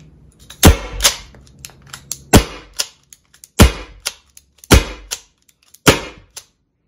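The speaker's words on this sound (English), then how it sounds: "it's not punctured, so it's gonna puncture and fire on the first shot." A Byrna SD launcher fires five sharp, loud cracks at roughly one-second intervals, each a crisp close-up pop with faint clicks of handling between shots.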